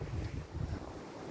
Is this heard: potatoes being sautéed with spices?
no